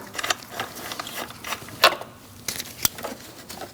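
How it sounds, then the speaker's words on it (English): A hand ratchet works loose a bolt on the engine of a 2000-2006 Mini Cooper, giving several short bursts of close, crisp clicking separated by brief pauses, with no talk. "And remove your last bolt."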